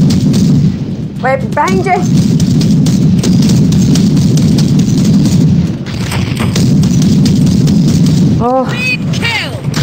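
Loud, dense gunfire and booming blasts from the Warhammer Battle Sister video game roll on almost without a break, with short spoken remarks cutting in over the shooting.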